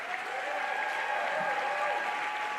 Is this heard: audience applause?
yes